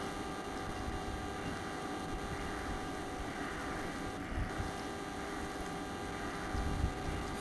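A Pinion MGU e-bike drive unit runs while riding at 22 km/h in 10th gear at 63 rpm cadence. It makes a steady, faint whir with thin tonal whine lines, mostly buried under continuous wind rush, with no talking.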